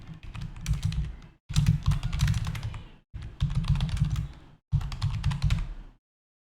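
Someone types on a computer keyboard, in four dense bursts of rapid key clicks separated by short pauses, close and clear with no voice.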